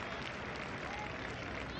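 A cricket crowd applauds the West Indies reaching 100 runs in a 1973 Test against England, a dense, steady wash of clapping heard from a distance.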